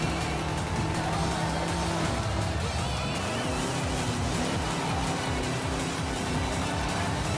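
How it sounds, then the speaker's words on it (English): Car engine in Forza Horizon 5, a 5.3 engine, droning steadily throughout with a shift in pitch partway and a layer of game sound over it, no talk. "Oh, this is the engine."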